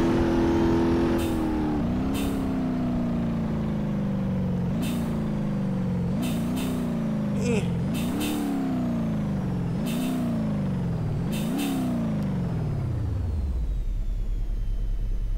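Game car engine droning steadily, rising and falling in pitch as it repeatedly revs and shifts, with sharp air-brake hisses in between, then winding down to a low idle at the end.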